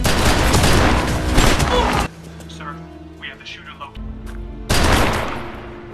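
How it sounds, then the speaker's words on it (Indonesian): Gunfire in an action film starring Michael Jai White: loud bursts open and close the scene, with a quieter stretch of softer effects and background score between them. "Namun naasnya Lassie tertembak oleh Toro"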